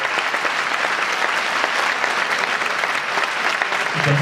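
Loud, dense applause from a large crowd at a political rally in El Prat de Llobregat, a continuous wash of clapping that holds steady throughout.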